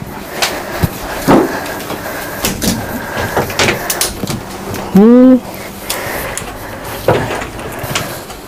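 The sliding doors of a three-door apartment wardrobe are opened, giving scattered knocks and rattles and one sharp rising squeal of the track midway, close by, with voices faintly in the background.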